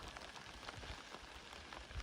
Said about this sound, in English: It's drizzly and rainy again.